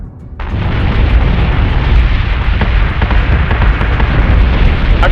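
Sustained explosions and heavy booming fire batter a starship in the space combat game Battlestar Galactica Deadlock, a loud, continuous roar of blasts beginning after a brief quieter moment.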